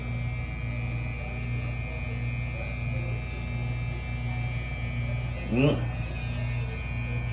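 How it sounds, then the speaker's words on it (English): An electric hair clipper runs through a haircut with a steady, close mechanical buzz and hum. The tone holds even throughout, with a brief louder burst near the end. "Take the clipper"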